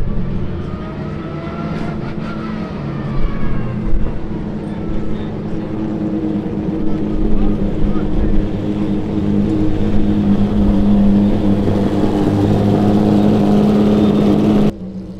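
Lister Storm GT1 race car with a V12 engine driving on a track, a steady loud engine drone with shifting pitch throughout, no voices.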